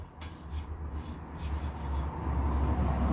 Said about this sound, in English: I'm going to use my chalk trick to make sure that it's flat